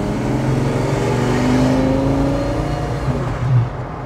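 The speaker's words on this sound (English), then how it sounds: "It definitely sounds like a Lamborghini." A Volvo fitted with a Lamborghini engine accelerating, a loud rising engine roar with climbing tone that peaks and then eases off near the end.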